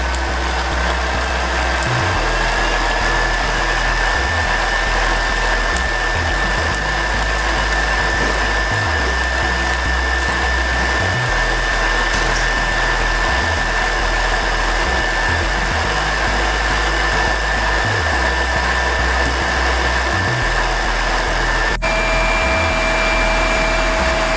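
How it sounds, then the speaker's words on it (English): An electric mixer whips egg whites to stiff peaks for tiramisu, a loud, steady motor whir throughout with a gently pulsing low drone as the beaters work the bowl, no voices. "now the egg whites, guys, we just beat them for stiff peaks"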